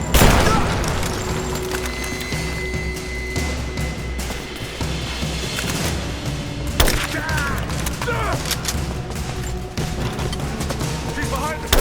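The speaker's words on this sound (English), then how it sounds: "I'm taking fire!" Gunfire and booming impacts in the Rise of the Tomb Raider video game, a loud, dense wash of shots and rumbling blasts under shouted voices and continuous background noise.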